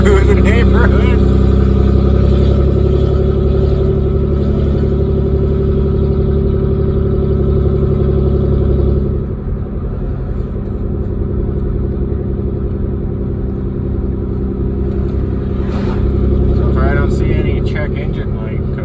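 A Nissan converted into a tractor drives slowly through a neighborhood with its mid-pitched engine held at low RPM, a steady loud drone that dips slightly midway, while someone talks over it.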